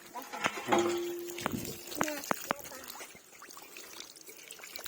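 Water pours and trickles steadily, with some livestock-like bleats and a few sharp knocks nearby; background is fairly noisy.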